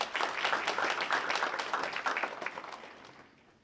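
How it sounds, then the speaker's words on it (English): An audience at a presidential portrait unveiling ceremony claps for student leaders and Royal Court members, a full round of many hands that holds steady, then thins and fades toward the end. "Let's give them a round of applause."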